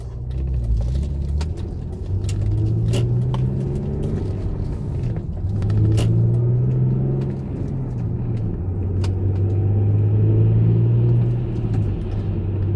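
MG ZT 190 SE saloon cruising on a road at a steady 40 mph, a smooth, even engine drone and road rumble heard from inside the cabin, continuous and fairly loud with no talk.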